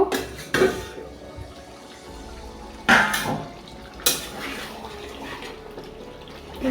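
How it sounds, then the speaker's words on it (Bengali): A lid is lifted off a pot of butter chicken with potatoes after about fifteen minutes of simmering, giving three or four sharp metallic clanks spaced a second or two apart over a soft bubbling hiss, with no talking. "পনেরো মিনিটের মতো এটাকে ফোটাবো এবার ঢাকনা খুলে দেখব"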